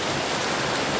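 Rain falls over Jamnagar city as a steady, dense hiss that fills the whole moment evenly, with no voices and no breaks.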